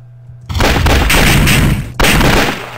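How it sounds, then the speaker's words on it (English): Two sharp, loud gunshot booms from the video game Code Blue, fired at a bear, ring out close and alone, the second following about a second and a half after the first. "I just shot that bear."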